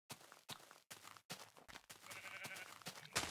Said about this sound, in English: You are unnecessary, Mr. Sheep Friend